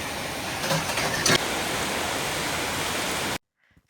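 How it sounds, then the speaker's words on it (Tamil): Steady rain pours down as a dense, even hiss that fills the scene without pause, loud and close, then cuts off abruptly near the end. "ரொம்ப நாளுக்கு அப்புறம் மழை இங்கே."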